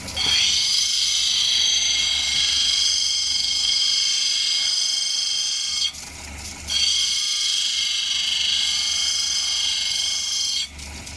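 Ethiopian opal being ground on a lapidary wheel, a steady high whirring grind with a continuous motor hum, briefly dipping twice as the stone is lifted and pressed again.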